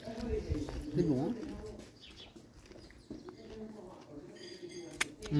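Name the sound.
small birds near picnic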